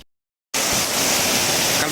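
Heavy rain pours down outdoors, cutting in abruptly after a brief silence as a loud, dense, continuous hiss that stays even to the end.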